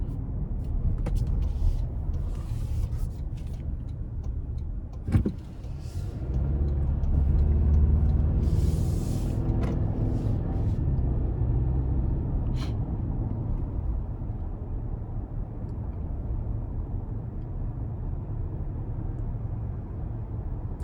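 A 2024 Toyota Tacoma Limited truck driving over a bumpy road: a steady low cabin rumble and road roar, broken by a sharp thump and a few lighter knocks.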